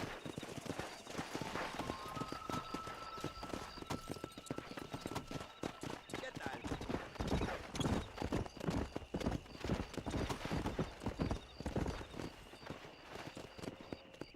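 Horse hooves clip-clopping at a brisk riding pace in the Red Dead Redemption video game, a continuous rhythmic patter of hoofbeats close up with an occasional whinny, a voice briefly heard.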